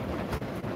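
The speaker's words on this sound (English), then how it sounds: "It's so windy out." Steady gusty outdoor wind roars and buffets the microphone, loud and broadband, with brief swells in the rush.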